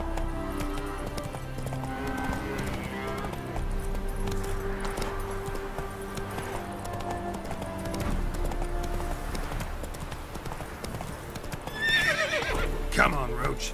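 A horse in The Witcher 3 video game gallops with steady, continuous hoofbeats over a layered game soundscape, and a loud whinny rises near the end.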